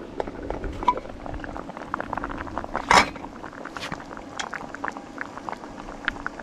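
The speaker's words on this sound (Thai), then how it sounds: "น้ำเดือดนะฮะ" Water boils on an electric stove run from a solar power station, a continuous bubbling and popping with irregular crackles and one louder burst, close and alone.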